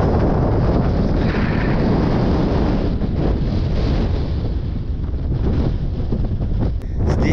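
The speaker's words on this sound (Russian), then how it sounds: "Ветер дичайший дует." Strong, steady wind roars and buffets across the microphone on the icy Angarsky Pass in Crimea, a dense broadband rush with no other sounds standing out.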